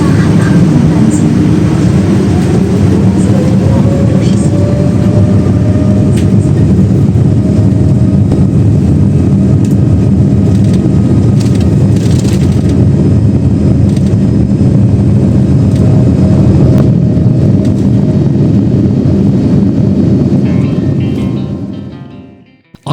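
A Shanghai Airlines flight, FM 823, roars down the runway and climbs away from Hongqiao, heard from inside the cabin as a loud, steady engine rumble with a rising whine, easing off only at the very end.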